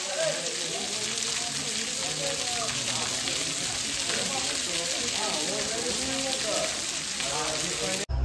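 Water pours and splashes continuously at Akasha Ganga in Tirumala, a dense hissing rush filling the whole clip, with people's voices faintly mixed underneath.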